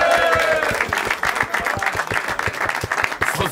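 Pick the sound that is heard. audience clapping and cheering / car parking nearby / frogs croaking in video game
audience clapping and cheering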